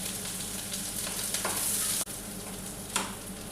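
Chopped onion hits hot oil already holding spluttered mustard seeds, a loud, close, continuous sizzle with stirring scrapes, a brief cut near the middle and a sharp clack toward the end.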